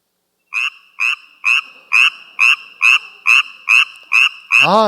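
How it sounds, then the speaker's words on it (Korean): A tree frog calls in a recording played during a church sermon: nine loud, evenly spaced, sharp nasal croaks ring out close and alone, ending in a longer louder call. "그 다음에 청개구리의 울음소리."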